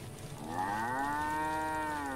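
In Force of Nature 2, a cow gives one long, drawn-out moo against quiet background ambience, with no voices.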